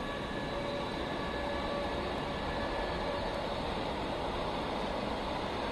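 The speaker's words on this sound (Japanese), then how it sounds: "貨物列車だ" A loud, steady rumble of a freight train rolling past, a continuous broad roar with a faint high tone running through it.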